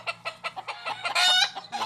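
Fighting roosters and hens at close range: a rapid series of short clucks in a quick rhythm, then a brief loud crow-like call in the middle before the clucking resumes.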